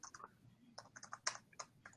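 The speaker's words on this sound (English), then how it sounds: "I can hear her typing" Quiet, irregular clicks of keys being typed in short bursts, fairly faint and close, with no voices.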